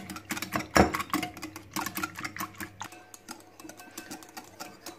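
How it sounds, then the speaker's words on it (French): Leek and smoked salmon tart filling stirred in a bowl, giving close, continuous soft scraping and clinking of a utensil against the bowl, with one louder knock near the start and steady irregular taps throughout. "Voilà, on mélange ça bien."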